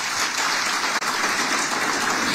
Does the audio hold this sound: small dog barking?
no